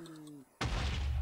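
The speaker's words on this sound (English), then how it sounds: "Delayed explosion" A delayed explosion in Minecraft near a Nether fortress: a short hum of tones cuts out, then a sudden loud, broad blast roars in and holds for the rest of the moment.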